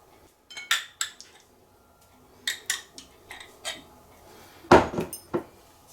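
A spoon scrapes and clinks against a bowl while a ham and pineapple salad with nuts and mayonnaise is mixed, in irregular bursts of clatter, close and fairly loud, with short quiet gaps between strokes.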